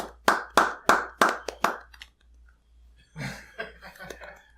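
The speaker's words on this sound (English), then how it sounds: "Right, clap it up." Five sharp claps in a steady rhythm, close and loud, followed by a short pause and then casual murmuring voices.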